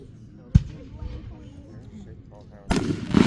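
July 4th fireworks bursting: one sharp close bang early on, then a quieter stretch with people talking, then a heavy crackling explosion that booms and sizzles at the end.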